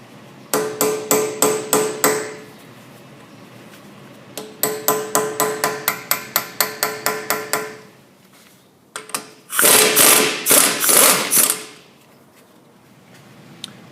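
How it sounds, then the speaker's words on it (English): Quick bursts of sharp metallic taps from a hammer striking a skinny chisel against the axle nut on a 2003 Honda Civic front hub, close and loud, in rhythmic runs with short pauses. "take a little chisel, a skinny chisel, and tap on that to round that up a little bit"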